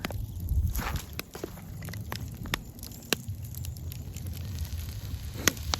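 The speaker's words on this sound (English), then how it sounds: "can already hear the sizzle" Quiet outdoor crackle and soft sizzling of food cooking over a campfire in cold weather, with scattered pops and ticks over a low steady background rumble.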